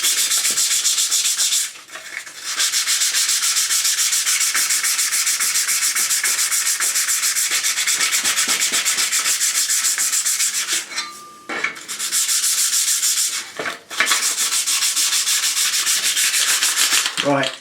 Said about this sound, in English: Now I'm just going to smooth it down, clean it up a bit and whack a coat of paint over it for good measure.